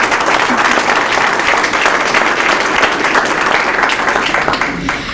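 A high school audience at a letter-of-intent signing breaks into loud, close applause, a dense burst of clapping that holds steady for a few seconds before easing slightly.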